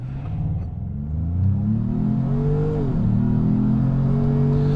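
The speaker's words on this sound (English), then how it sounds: "It goes right up to redline in Lobo mode." A 2025 Ford Maverick Lobo in Lobo drive mode revs hard toward redline, the engine note climbing steadily, dipping briefly at a shift, then pulling up again, loud and close.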